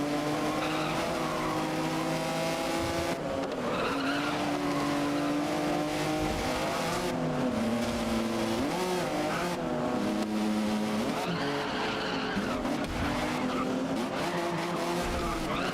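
Porsche race car in the racing game GRID (2019), its engine roaring continuously with shifting revs and tires skidding and squealing through corners, loud and steady throughout.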